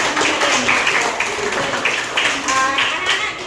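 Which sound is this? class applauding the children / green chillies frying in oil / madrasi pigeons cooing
class applauding the children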